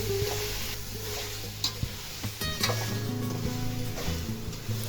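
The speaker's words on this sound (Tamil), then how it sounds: "இந்த மசாலா எல்லாம் சிக்கனில் நல்லா படுற மாதிரி நல்லா பரட்டி விட்டுடலாம்." About three-quarters of a kilo of chicken leg pieces fry with masala in a pan for Malabar chicken biryani, giving a steady soft sizzle with intermittent scraping and clinking as a spoon stirs through it.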